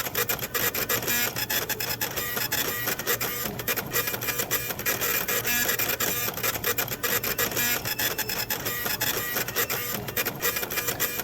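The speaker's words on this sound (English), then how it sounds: "Let me run another receipt printer." Receipt printer in a video game set in a rental store, printing steadily and loudly for the whole stretch, a dense continuous mechanical buzz with rapid rhythmic chatter and no talking.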